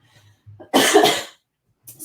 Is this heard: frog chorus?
no